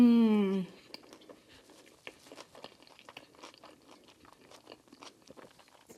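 Someone bites into Texas BBQ food and chews it, making close, wet crunching and smacking sounds in an irregular rhythm over several seconds. A short voiced sound opens the clip.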